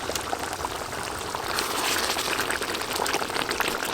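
Goat meat curry with potatoes simmers in a pot, a continuous loud bubbling and hissing with no voices.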